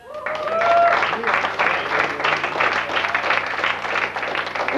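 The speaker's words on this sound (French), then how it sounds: "On l'a assez applaudi" Audience at a 2002 college student-association awards gala applauding a winner, sustained dense clapping throughout, loud and close, with some voices mixed in.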